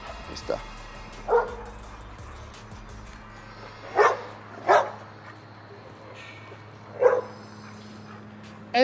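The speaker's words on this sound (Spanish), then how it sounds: "Estamos pasando enfrente de otros perros que están ladrando" Street dogs bark at a passing pitbull on a walk, with about six distinct, fairly loud barks spaced out irregularly over a constant low hum of background noise.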